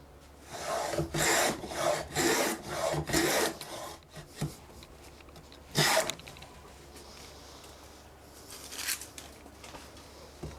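A dovetail plane cutting wood for a sliding dovetail, a run of about five quick, rasping strokes in a steady rhythm, then a couple of lighter passes, close and crisp with no talk.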